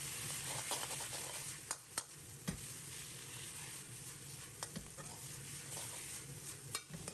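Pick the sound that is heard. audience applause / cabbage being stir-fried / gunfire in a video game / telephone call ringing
cabbage being stir-fried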